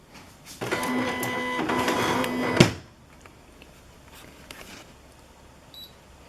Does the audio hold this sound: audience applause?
no